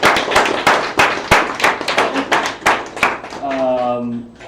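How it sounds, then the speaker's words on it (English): An audience claps in applause for game jam participants, a dense, loud burst of many hands with sharp uneven slaps that gradually thins out, and a voice begins to speak near the end. "let's give a round of applause for everybody who made a game"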